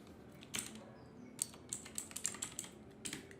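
Quick computer keyboard shortcuts are typed in short bursts of close, crisp key clicks, with faint background and no voices.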